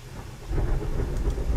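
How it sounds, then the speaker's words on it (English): Rain falling with a low rumble of thunder, a steady wash of noise and a deep swell, heard indoors with no voices over it. "You guys enjoying the sound of the rain?"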